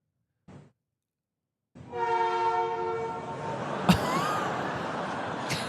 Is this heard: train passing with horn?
yes